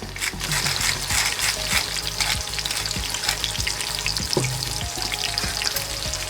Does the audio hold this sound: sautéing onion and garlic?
yes